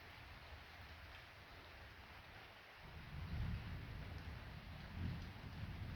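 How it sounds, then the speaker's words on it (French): Distant thunder rolls in twice during a summer thunderstorm over the Camargue, low and rumbling beneath a steady hiss of rain and faint wind. "Si vous entendez tonner, c'est sur Arles qui se prennent leur 5e orage."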